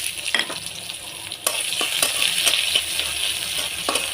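Chopped onions sizzle steadily in hot oil with cumin, with occasional scraping stirs and clinks of a utensil against the pan, close and moderately loud.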